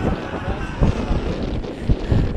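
Strong outdoor wind buffets the microphone at a windy outdoor sports tournament, a loud, continuous low rumble with gusty surges throughout.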